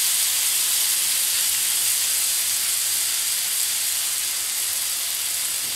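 Grated potato hash browns fry in clarified butter in a pan, giving a loud, dense, continuous sizzle that holds steady and close throughout.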